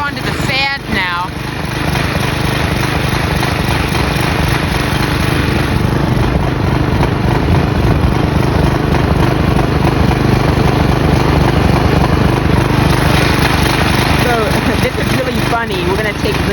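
A Briggs & Stratton flathead engine on a Craftsman push mower runs loud and close, a constant buzzing drone with a few brief revving changes near the start and end.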